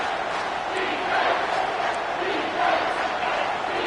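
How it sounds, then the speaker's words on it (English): A home crowd roars steadily at an Auburn vs. Clemson college football game on a third down, a dense wash of cheering and yelling from a packed stadium that swells slightly in places. "Here comes this home crowd as the defense tries to get off the field on third down"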